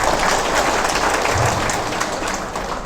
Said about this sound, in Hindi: एक बार तालियां बजाए देवी।